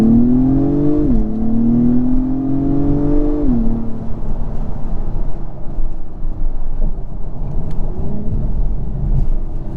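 A 2022 Acura TLX Type S accelerates hard in first gear, its engine note climbing in a loud rising drone, shifting and climbing again, then settling into a lower cabin rumble with no talk.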